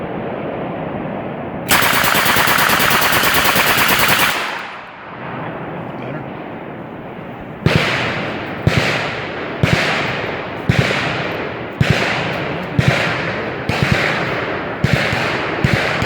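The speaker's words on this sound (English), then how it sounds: "he's just Al Capone with an Uzi, that's all he's doing" Uzi submachine gun at the Knob Creek machine gun shoot: a loud sustained burst of automatic fire, a pause, then a steady run of sharp, close shots about once a second, each with a ringing outdoor echo.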